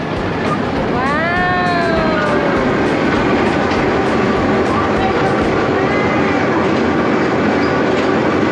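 A miniature ride-on train runs steadily along its rails at a Mae Rim, Chiang Mai attraction, giving a loud continuous rumble and rattle. A high squeal rises briefly early on, and voices are heard over the noise.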